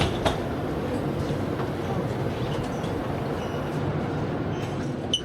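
Steady rumbling and rattling from inside a moving train car near Charles de Gaulle Airport, a continuous low roar with faint clicks and a distant voice or two.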